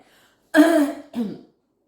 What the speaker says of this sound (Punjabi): ਉਹ ਉਹਦੇ ਨਾਲ ਹੀ ਖੰਘ ਛਿੜ ਪੈਂਦੀ